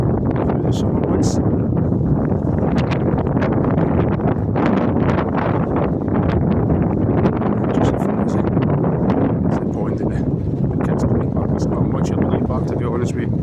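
Strong wind gusts across the seafront at Largs, buffeting the microphone with loud, continuous roaring rumble and flutter throughout, with occasional faint higher rustles and no clear voices.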